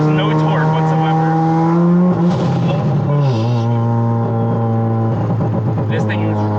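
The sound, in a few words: 460HP Mazda RX-7 rotary engine revving, tires spinning on wet road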